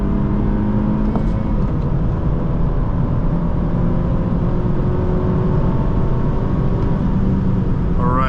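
A 2019 Honda Civic Sport with a 1.5-litre turbo and six-speed manual launches hard from a standstill, its engine droning loudly and steadily throughout, with a rising whine near the end as it accelerates.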